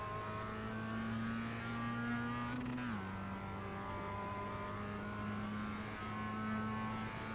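Mazda MX-5 race car in the iRacing simulator at Tsukuba pulling hard at full throttle, a steady loud engine drone with a brief dip and rise around an upshift, then holding strong to the end.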